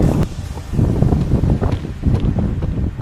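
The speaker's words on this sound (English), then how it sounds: "It's so windy up here." Strong wind buffets the microphone in heavy, continuous low rumbling gusts that rise and fall without a break.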